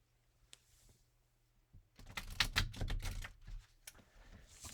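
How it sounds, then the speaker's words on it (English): A deck of cards is riffled in a quick, dense burst of flapping clicks, preceded and followed by softer handling taps, close and quiet. "I'll be shuffling over here."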